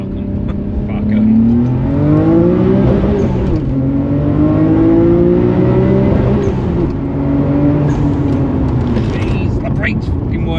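Nissan Skyline R32 GTR accelerating hard through a tunnel, a loud continuous engine roar whose pitch climbs and falls through gear changes, close and reverberant, with voices talking over it.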